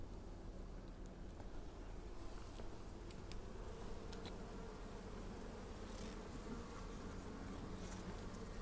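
Honey bees buzz in a steady, dense hum while a nucleus colony is installed into a hive, close and constant with faint clicks of frames being handled.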